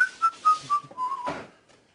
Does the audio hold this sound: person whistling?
yes